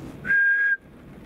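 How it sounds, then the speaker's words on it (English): A single clear, steady whistle carries from a forest in the rain, lasting about half a second over a soft, hissing background. "We got whistles."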